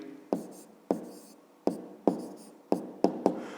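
Pen or pencil tapping and scratching on paper while a maths answer is written down, about seven sharp close strokes in an uneven rhythm, with no talk.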